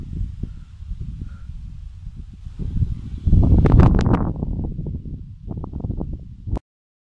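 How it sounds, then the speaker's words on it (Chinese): Strong wind gusts through eggplant plants in a garden, a low blustery rumble buffeting the microphone that swells sharply partway through before cutting off abruptly. "风很大。"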